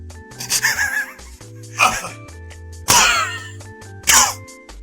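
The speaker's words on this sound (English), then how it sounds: "Alright, we got the cough." Several sharp, forceful coughs or throat bursts come close and loud over a few seconds, separated by short pauses with a faint background tone.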